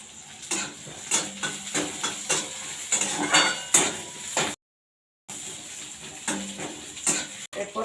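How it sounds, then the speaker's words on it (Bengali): Dry chillies sizzle in a hot pan as tempering while a spatula scrapes and clinks against the metal in uneven strokes. A brief silent gap falls midway. "ফোড়ন দিয়ে দিলাম।"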